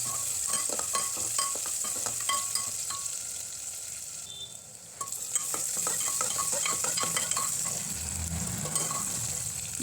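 Sliced onions, green chili and ginger-garlic paste fry to golden in a pot, with a close sizzle, quick metallic stirring clinks and a brief lull partway through before the stirring resumes.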